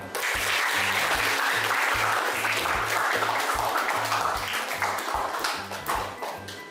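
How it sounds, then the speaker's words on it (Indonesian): A group claps in steady applause for all the student groups during a teacher-training lesson, the sharp claps running together for several seconds before tapering off slightly toward the end. "sekali lagi saya berikan tepuk tangan untuk semua kelompok"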